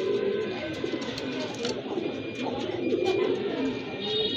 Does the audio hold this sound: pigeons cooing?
yes